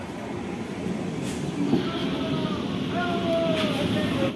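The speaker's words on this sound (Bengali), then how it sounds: "ট্রেনটা ঢুকে গেছে, এবার আমরা ট্রেনে উঠে যাব" A passenger train rolls into a station platform with a steady low rumble of wheels, faint squeals and a brief horn-like tone near the end, among ambient platform noise.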